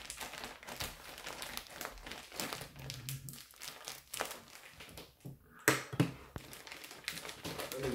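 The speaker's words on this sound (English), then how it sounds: "I'm going to tape it all down." Tape being pulled and pressed down over a plastic Lion's mane mushroom grow bag, a steady run of crinkling, crackling and tearing close by, with a louder rip near the end.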